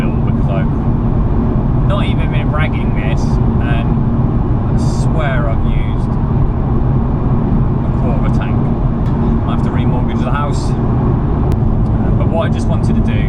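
A BMW M2 with a 3-litre straight-six turbo engine drives along the road, its engine and tyre roar steady and loud from inside the cabin, with someone talking over it throughout.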